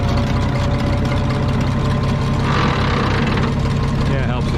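A Minneapolis Moline G950 tractor engine idles with a steady, heavy low rumble that runs continuously and fairly loud throughout, with a brief rise in mechanical clatter partway through.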